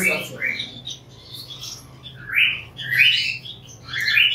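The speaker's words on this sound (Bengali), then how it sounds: "দেখতে পাচ্ছেন ককাটেল পাখি" Cockatiels in an aviary give repeated bright, sharp chirps in short bursts, close and loud over a low background hum.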